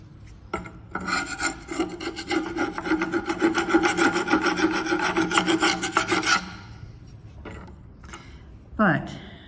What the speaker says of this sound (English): I can just scrape the rust right off.